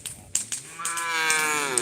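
Small cattle at a karapan sapi bull race on Sapudi Island give a short bleating call, a nearby wavering bellow after a couple of brief knocks and rustles.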